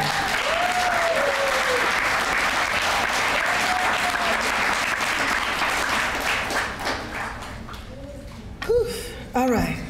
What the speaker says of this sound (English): Please clap for everyone.